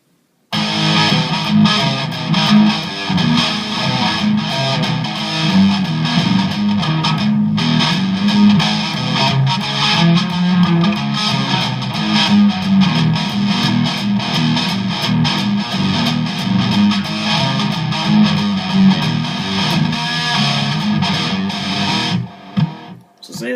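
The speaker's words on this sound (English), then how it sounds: "it doesn't sound bad if you throw it on the distortion." An electric guitar with heavy distortion strums simple rhythm chords steadily for over twenty seconds, loud and dense, before cutting off abruptly.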